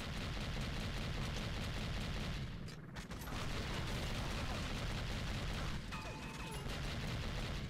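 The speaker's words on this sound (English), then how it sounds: "I'm resorting to the weenie gun." A weak 'weenie gun' in the shooter 007 Agent Under Fire keeps firing in dense, steady bursts, with a brief dip partway through before the loud crackle resumes.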